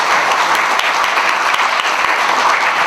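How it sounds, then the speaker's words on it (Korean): Steady applause from a seated audience at a book launch in the National Assembly library, dense and continuous clapping filling the room for about three seconds with no pauses. "박수 한번 쳐 주세요."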